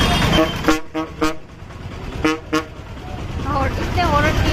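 Car and bus horns honking in a traffic jam caused by a bus, several short loud toots in quick pairs over the rumble of idling vehicles, with more horns carrying on faintly later.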